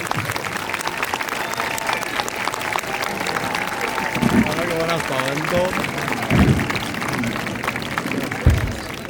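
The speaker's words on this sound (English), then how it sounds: "Please give another round of applause to our gunners." A crowd applauds the gunners at the Valletta saluting battery on St. Paul's Day, a continuous outdoor patter of clapping with voices calling out over it and a few heavier thumps standing out.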